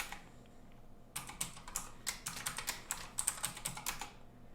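A Linux terminal command is typed on a computer keyboard during a Kali Linux setup on Windows 10. After a brief pause, a quiet, close run of about fifteen uneven keystroke clicks follows, with no talking.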